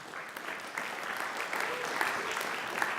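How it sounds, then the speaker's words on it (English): Audience applause at a tech conference event, steady crowd clapping at moderate distance throughout, with faint voices mixed in. "Please continue to give a round of applause for our sponsors."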